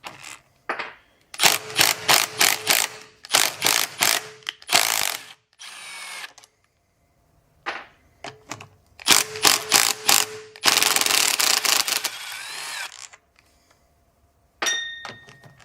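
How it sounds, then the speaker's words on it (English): A mini impact driver hammers at fittings on a small, old, chalky outboard boat engine, firing in several loud rattling bursts of a second or two with pauses between, then one longer burst and a final short one. "what works actually pretty good too is like a little mini impact. It gets the hammer effect on it."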